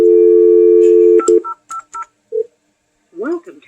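A telephone keypad dials a call into an AUDX PBX voicemail system: a steady dial tone, then a quick series of separate DTMF key beeps, followed by a recorded voice prompt answering.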